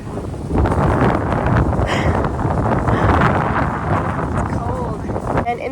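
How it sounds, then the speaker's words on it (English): Wind gusting across a spring garden bed, a broad roaring rush buffeting the microphone for several seconds while someone talks over it. "Oh, here comes the wind. It's crazy."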